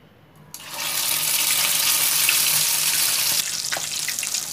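Mutton chops dropped into hot oil start a sudden loud, steady hiss of frying that holds, then eases to a softer sizzle with faint pops.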